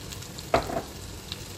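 Pork frying with coriander powder, Ugandan style, stirred once in a pan: a single brief scrape-and-sizzle burst, then a soft steady background sizzle.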